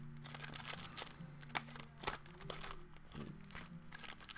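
Close, continuous crinkling and crunching of foil trading card packs as they are shuffled together by hand, with uneven bursts of rustle. A low hum sits underneath and no one speaks.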